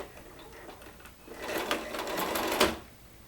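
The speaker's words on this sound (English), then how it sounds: "So I just get it started. I'm going to go kind of close to the edge." Close by, a sewing machine starts up stitching a Christmas stocking, first a soft whirr, then a louder run of rapid stitching that ends with a clack, with no voices.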